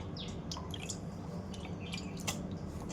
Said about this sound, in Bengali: এবার জলে ভালো করে পরিষ্কার করে ধুয়ে নেব।